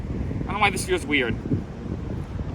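Wind blowing outdoors during a push-up workout, a steady low rumbling gust noise against the microphone throughout, with a person talking briefly over it up close.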